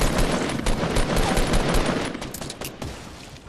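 Rapid bursts of automatic gunfire in a Fortnite Battle Royale squad match, dense crackling shots firing steadily and then thinning out toward the end, loud and close with no talking.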